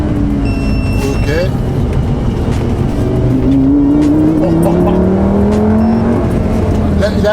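A Lamborghini Gallardo V10 accelerates hard on a country road, its loud, close engine note climbing through rising gear pulls with brief shift breaks, while people inside talk excitedly over it.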